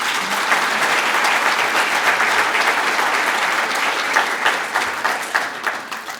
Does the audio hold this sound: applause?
yes